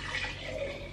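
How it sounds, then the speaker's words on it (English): Coffee pours steadily into a jug in a continuous liquid stream lasting about a second, fairly quiet and close, with no talking over it. "So we're just gonna pour some coffee in it."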